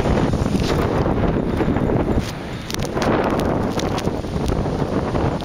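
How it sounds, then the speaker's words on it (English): Hurricane Isaac wind in southern Alabama buffets the microphone, producing loud, ragged, continuous rumbling gusts up close. "that's our only issue right now is the wind."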